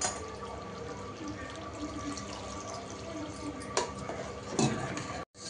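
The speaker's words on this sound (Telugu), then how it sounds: "సో ఇప్పుడు ఏంటంటే మాకు ఇంకొంచెం గ్రేవీ కావాలి కాబట్టి ఇందులో వాటర్ వేసేసుకుంటున్నాము." Water poured into a pot of chicken masala curry to thin the gravy, a steady running, splashing pour held close, with a couple of brief louder splashes near the end.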